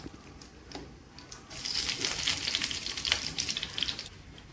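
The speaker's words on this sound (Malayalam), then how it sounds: "വെളിച്ചെണ്ണ ചൂടായി വന്നപ്പോഴത്തേക്ക് നമുക്ക് കുറച്ച് കറിവേപ്പില അങ്ങ് ഇട്ട് കൊടുക്കാം" Curry leaves hit hot coconut oil in a pan for a Kerala prawn roast, setting off a loud, crackling sizzle that bursts up close and keeps spitting steadily.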